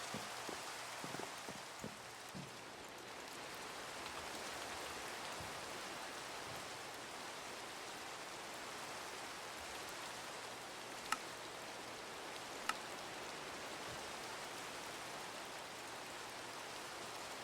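Steady rainfall in the Minecraft game, a soft, even hiss of rain on surfaces that continues throughout, with a few faint taps and clicks early and later, no voices.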